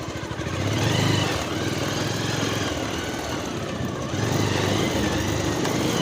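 A motorcycle engine runs steadily on an off-road jungle trail in Khotang, its low rumble rising and falling slightly as the bike moves, with broadband wind and road noise over it and no talk.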